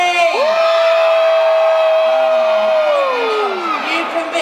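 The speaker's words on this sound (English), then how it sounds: "on the count of three, you have to cheer as loud as you can" A crowd of children at a seaside holiday-resort stage show cheers and whoops loudly together, a sustained shout with a rising and falling collective yell, close and filling the space.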